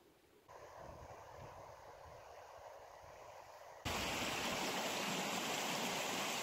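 A stream in Badgworthy Wood runs close by in late April, a steady broadband rush of flowing water that grows noticeably louder partway through, with no voices.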